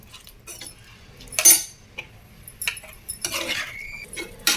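Chicken pieces are mixed with ginger garlic paste in a bowl for a village-style chicken curry, giving intermittent clinks and scrapes of a utensil against the dish with wet squelching in between.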